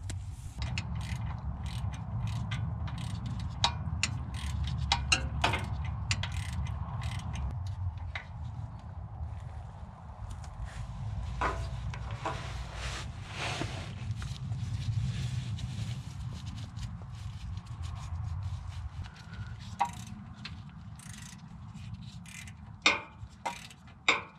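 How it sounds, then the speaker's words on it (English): Ratchet wrench loosening the starter mounting bolts on a Ford F-150 with a 5.0L engine, quick clicking pawl bursts over a low background hum, moderately close with a few sharper clanks toward the end. "we can remove our mounting bolts and the starter"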